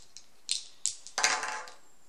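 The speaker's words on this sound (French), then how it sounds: "Donc on lance 2 dés." Two dice are rolled during a Galaxy Defenders board game: a few light clicks, then a short clattering tumble across the table that quickly settles, quiet and close.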